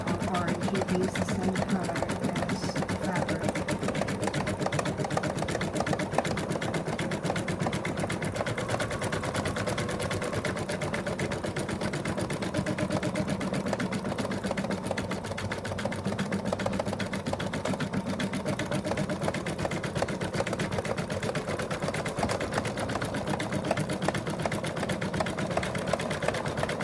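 A sewing machine stitches fabric with a steady, fast mechanical whir and rattle, running continuously without pause, close and even in loudness throughout.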